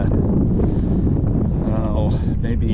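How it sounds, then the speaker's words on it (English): Strong wind buffets a boat out on Lake Powell, making a steady low roar and rumble across the microphone, with a voice briefly audible beneath it. "Wind's blowing pretty good."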